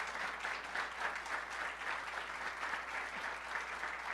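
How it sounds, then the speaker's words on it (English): An audience claps for panelists at a women-in-politics event, a steady, even round of applause heard from a distance throughout with no voices. "let's give our panelists a great round of applause"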